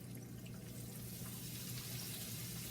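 Breaded chicken, dredged in buttermilk and flour, sizzling in hot grease, giving a steady dense hiss and crackle that stays even and close throughout, with no talking.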